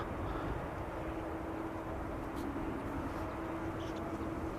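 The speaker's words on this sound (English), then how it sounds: "Now this airplane probably is going to stop." A jet airplane rolls along the runway after touchdown, a steady roar with a faint whining tone as it slows.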